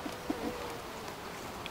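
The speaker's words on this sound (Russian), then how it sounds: "То есть пчелы тут не так-то много." A faint, steady hum of honey bees at a small hive drones throughout, buzzing softly nearby, with a couple of tiny clicks and no voices.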